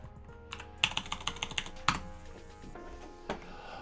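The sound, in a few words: typing localhost on a computer keyboard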